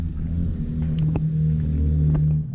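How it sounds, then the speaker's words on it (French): A motorcycle passes on a steep mountain road in the Chartreuse massif, its engine rumbling loud and close throughout and swelling slightly as it goes by, with no talking. "il y a une moto qui va me faucher je crois"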